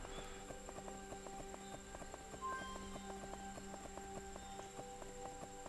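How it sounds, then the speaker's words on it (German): A horse clip-clops at a quick, even trot in the Unicorn Princess game on Switch, steady rhythmic hoofbeats over faint background music. "jetzt reiten wir mal wieder ein bisschen schneller"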